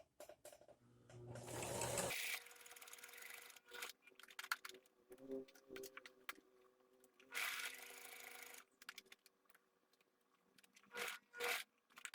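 Sewing machine stitching strips of fabric for a tea towel, quick bursts of close mechanical whirring and rapid needle ticking separated by quiet pauses, with faint scraping as the cloth is shifted.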